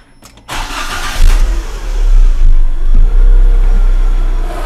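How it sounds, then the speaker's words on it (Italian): A car engine cranks and catches during a battery starting test, a short burst of starter noise followed by a loud, steady running engine close by. "facciamo test di avviamento ok spegnere il motore ok avvia il motore"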